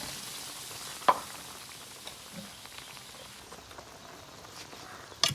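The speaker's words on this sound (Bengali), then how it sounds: "এখন জল দিয়ে দিচ্ছি।" Spiced egg curry masala in a pan sizzles faintly and steadily after water is poured in, a soft continuous hiss with a couple of small clicks.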